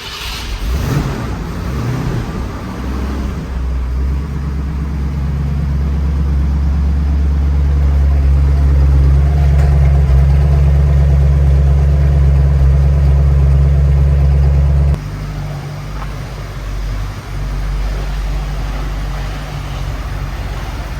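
Carroll Shelby's 1969 Shelby GT500, known as Old Shell, idles with a deep, loud V8 rumble that swells slightly before dropping abruptly to a lower, rougher idle partway through.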